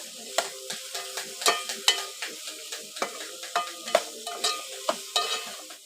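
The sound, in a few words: stirring food in a frying pan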